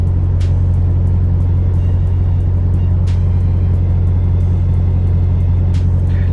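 A truck idling with its trailer attached, a steady low engine drone and rumble continuing throughout at close range, with a single brief spoken word over it.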